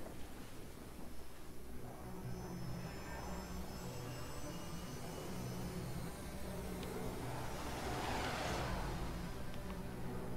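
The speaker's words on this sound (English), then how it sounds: "That's a big ass plane." A big plane's aircraft engine roars in Metal Gear Rising: Revengeance, a steady broad jet rumble that swells louder near the end, with faint voices in the background.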